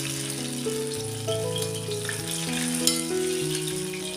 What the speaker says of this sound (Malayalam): തിരിച്ച് മറിച്ച് വിട്ട് നന്നായിട്ടൊന്ന് ഫ്രൈ ചെയ്തെടുക്കാം.